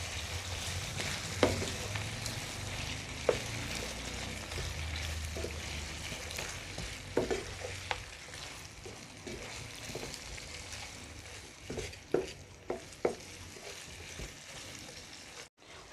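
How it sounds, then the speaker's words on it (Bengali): Tawa chicken with tomato and green chillies frying and being stirred on a flat pan, a steady soft sizzle broken by scattered clicks and scrapes of the spatula. "দুটি কাঁচামরিচ। এখন সব কিছু আবারও ভালো করে মিশিয়ে নেব।"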